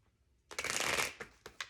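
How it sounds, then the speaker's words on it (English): Tarot cards are riffled close to the microphone in one dense, crisp burst about a second long, followed by a few softer separate flicks and taps. "Here I'm going to do a little bit of shuffling on camera."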